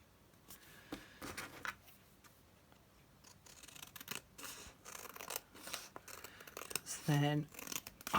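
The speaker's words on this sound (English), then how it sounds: "I think I need to cut this out." Scissors snip through a craft piece in short bursts of crisp, close cutting strokes, separated by pauses and rustling paper, with a person talking intermittently.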